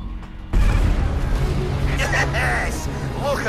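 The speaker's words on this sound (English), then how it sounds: "It's gonna explode." In the VR game Phantom: Covert Ops, a loud explosion booms in suddenly and is followed by a sustained rumbling roar with crackling bursts, while a person talks over it.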